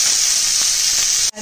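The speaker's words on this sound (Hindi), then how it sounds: "प्याज को थोड़ा सा गोल्डन ब्राउन होने तक पकाएंगे।" Onions sizzling and frying in a kadai toward golden brown, a steady close hiss of oil and steam that cuts off abruptly near the end.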